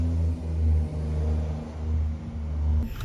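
Engine with its exhaust removed revving on a Welsh farm, a raw, droning roar that swells and dips in several rises, close and fairly loud, ending in a brief clatter.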